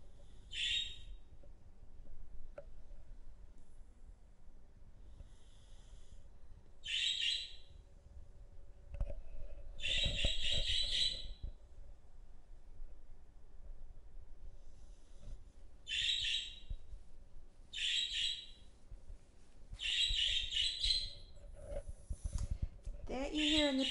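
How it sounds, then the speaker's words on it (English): A pet parakeet chirps repeatedly in the background, bright short bursts of calls spaced irregularly over a quiet indoor room, with soft speech at moments. "That you hear in the background is Snowy the Parakeet"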